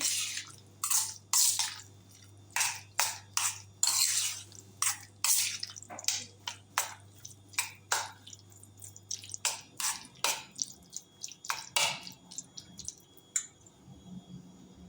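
Boiled potato salad with curd and chilli being stirred in a bowl, giving a run of wet, squelchy, irregular pats and drips close by with no voices.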